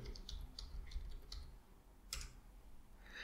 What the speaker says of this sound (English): Then let's type .NET --version.